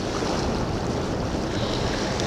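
High, fast-flowing river water rushing over a rocky bottom, a loud, steady broadband roar with gusty wind noise on the microphone and no talking.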